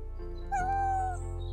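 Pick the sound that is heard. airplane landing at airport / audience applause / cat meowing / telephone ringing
cat meowing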